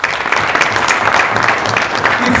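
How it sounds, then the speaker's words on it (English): A convention audience in a hotel hall applauding, a dense close burst of clapping that holds steady throughout. "Please clap for them."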